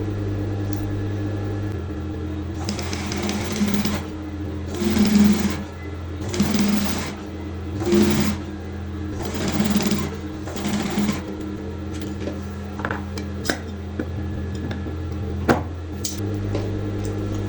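Domestic sewing machine stitching boning onto an evening-dress corset bodice: several steady whirring runs of a few seconds each with short pauses between, close and clear over a low mains hum, ending in light clicks and handling noises.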